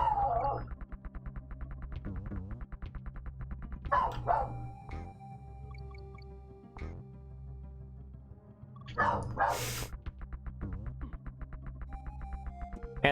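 A dog barks repeatedly in sharp bursts over steady, looping video game music from Donkey Kong Country, the barks fairly close and clustered at a few points.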